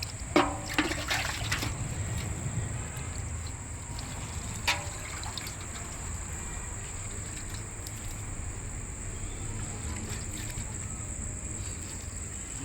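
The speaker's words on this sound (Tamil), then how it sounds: "தண்ணி ரொம்ப நிறையா ஊற்றிடாங்க." Water is poured onto garden soil in a steady, continuous trickling splash, close by and moderately quiet, with a faint high insect-like whine in the background.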